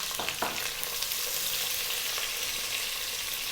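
An onion drops into hot oil with cloves and sizzles loudly for chicken and rice, a dense steady hiss of frying with a couple of brief stirring clatters near the start, close up and without talk.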